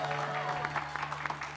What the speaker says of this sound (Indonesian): Tapi tepuk tangan dong buat Kanatari Hauser.